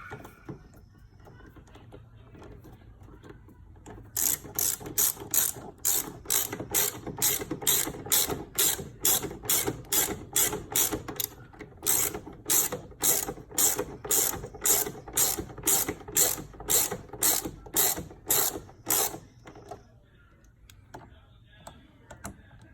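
A hand ratchet tightening a Mopar cold air intake on a Dodge Hellcat, clicking in quick, even bursts of rapid pawl clicks repeated over and over with short pauses between strokes, close and crisp.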